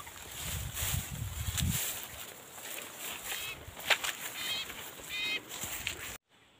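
Outdoor ambience by a ravine with repeated short, bright sooty-headed bulbul calls in bursts, fairly close, over a steady hiss of wind or water; no talking.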